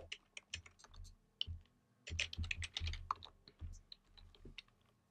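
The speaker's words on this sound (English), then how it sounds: "then you just want to type out section." Close, quiet typing on a computer keyboard, irregular bursts of crisp key clicks with short pauses between words.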